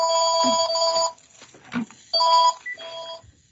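A telephone rings in a council committee meeting room, with several loud electronic trilling bursts separated by short gaps and faint sounds between them.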